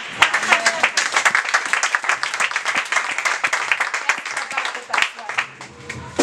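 A church congregation claps and applauds in a sustained burst during a French sermon about women in Jesus Christ's life, with voices and cheers mingling through the clapping.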